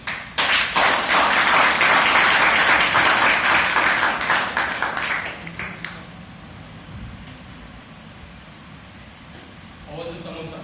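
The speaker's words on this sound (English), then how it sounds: "please help me welcome with a huge round of applause our general evaluator" An audience at a Toastmasters club meeting breaks into loud, dense applause that holds for about five seconds and then fades into quieter room noise with faint scattered sounds.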